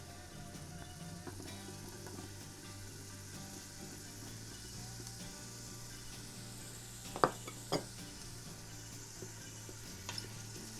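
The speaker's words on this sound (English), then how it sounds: "Here it's starting to sizzle already." Steady, soft sizzling and crackling of bell peppers in a hot Instant Pot, with a few brief clinks and scrapes of stirring partway through.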